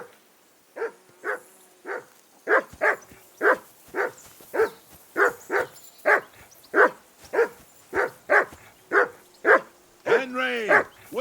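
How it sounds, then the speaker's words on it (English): The dog Mutt barks steadily in Kingdom Come: Deliverance II, around eighteen evenly spaced close barks over about ten seconds, ending in a longer, higher whining yelp. "That barking was a pain in the ass."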